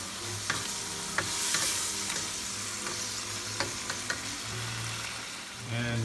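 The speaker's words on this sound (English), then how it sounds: "All right, we'll give it a good stir again." Vegetables stir-fry with hoisin sauce in a pan, a constant sizzle broken by repeated scraping strokes and taps of a utensil against the pan.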